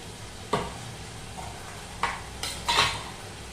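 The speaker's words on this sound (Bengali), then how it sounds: "আলু পেঁয়াজটা একটু ভাজা ভাজা করে নিলাম" Potato and onion fry in a pan with a low, steady sizzle, broken by three sharp scrapes and clinks of a utensil stirring against the metal.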